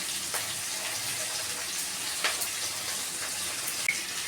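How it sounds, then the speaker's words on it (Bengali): Water poured into an egg-based gravy in a home kitchen, a steady soft hiss and trickle with faint clinks, alone and fairly quiet throughout. "জল দিচ্ছি"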